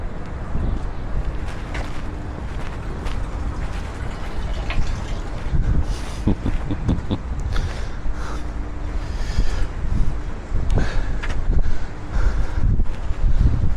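Strong wind blowing outdoors in a town, a loud continuous rumbling buffet against the microphone with gusting surges and faint rustling throughout.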